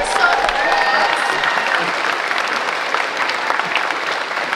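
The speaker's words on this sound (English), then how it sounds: "Give yourself applause." A large audience at Stanford University's convocation for incoming first-year students claps loudly, a dense, sustained roar of hands filling the hall without pause.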